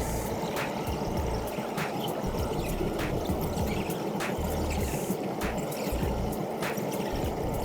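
A cordless robotic pool cleaner scrubs along the pool's water line, giving a steady churning, splashing water wash with repeated faint clicks of its brushes, continuous and fairly close.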